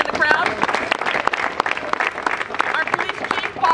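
An audience at a political endorsement rally applauds Mayor Beckford: loud, sustained clapping with many sharp individual claps, and voices murmuring underneath.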